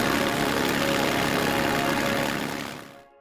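A Spitfire aircraft engine roars steadily during a ground test, a loud, dense continuous drone with a deep throbbing rumble that holds for nearly three seconds before cutting off abruptly into silence.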